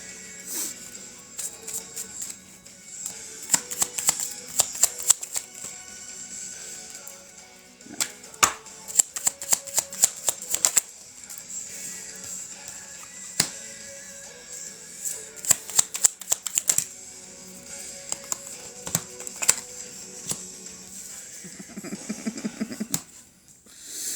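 Tarot cards are shuffled and handled during a late-night live reading: repeated quick clusters of crisp riffling snaps, close and fairly loud, separated by quieter pauses over a faint background hum.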